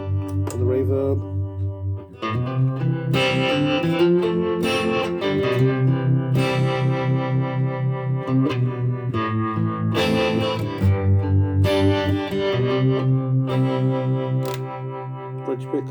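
Electric guitar played through a reverb effect, chords and notes ringing out with a washy, lingering tail, steady and fairly loud throughout.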